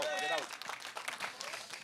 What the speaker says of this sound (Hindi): इनके लिए तालियां मारो भाई एक बार तो